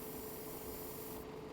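An aerosol or airbrush spray hisses continuously while Gunpla model parts are coated in Millennium Falcon colours, a steady close rush of air that cuts off abruptly near the end.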